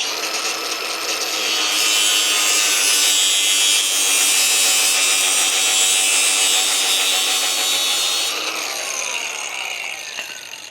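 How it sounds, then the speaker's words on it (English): A cutoff wheel grinds through a steel-reinforced hydraulic hose during a Toyota Tacoma full hydraulic steering install, a loud, steady, close abrasive whine lasting about eight seconds before tapering off, with no talking. "The reason I use a cutoff wheel to cut a hose, if you didn't know, there's steel inside of the hose."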